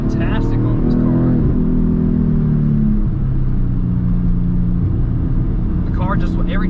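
A Porsche Cayman 718 GTS 4.0 engine on a mountain pass rumbles loudly close by, its revs sliding up and down through downshifts while someone talks over it.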